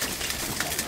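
Racing pigeons cooing in a loft during a pigeon-racing contest in Huichapan, soft throaty coos repeating close by over a steady airy hiss, with no talking.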